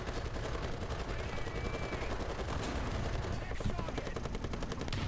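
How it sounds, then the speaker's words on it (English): Artillery strike in the N64 racing game Extreme-G 2, a dense, continuous barrage of rapid, rattling blasts that stays loud and harsh throughout. "artillery strike"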